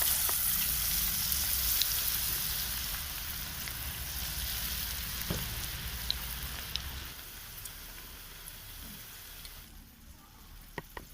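Cauliflower pieces for gobi chilli deep-fry in hot oil, giving a steady hiss and crackle that gradually softens, with a few faint pops near the end.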